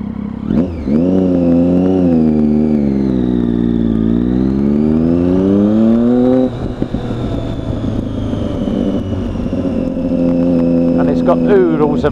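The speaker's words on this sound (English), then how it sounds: "And that familiar whine of that triple cylinder." Triumph Daytona 675 black and gold edition, a three-cylinder sport motorcycle, revs up and down loudly and close by with a rising and falling engine whine, then settles into a steady idle.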